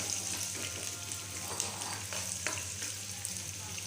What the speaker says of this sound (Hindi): अब मैंने सारी सब्जियों को तेज़ आंच पे फ्राई कर लेना है।